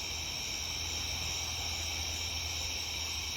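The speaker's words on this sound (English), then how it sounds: "Hear all the crickets and stuff." Crickets chirp at night on a farm, a steady unbroken high trill from many insects that hangs fairly faint over a quiet background.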